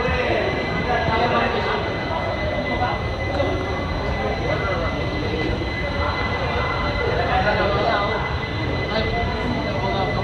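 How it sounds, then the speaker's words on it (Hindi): Onboard an ICF first-class coach as the Pune–Amravati express pulls out of Daund Junction, with a continuous loud rumble of wheels and coach rattle, a faint high squeal line running throughout, and no clear talk. "तो यहाँ फ़िलहाल हो चुका है दौंड जंक्शन से डिपार्चर।"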